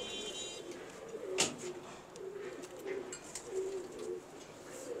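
Jeith pigeons coo softly in repeated low, rolling calls over a quiet background, with a few faint chirps and clicks mixed in.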